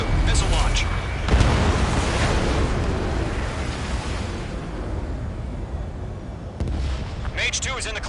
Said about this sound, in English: Mage 2, missile launch.